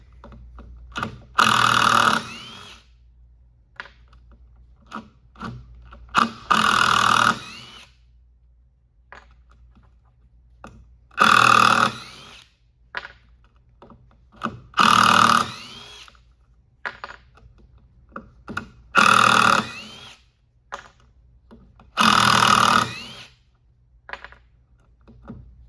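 Several bursts of an impact driver backing out screws in a Wiha versus DeWalt comparison, each a loud rattling hammering run of one to two seconds, spaced by quiet pauses, close and alone without talk.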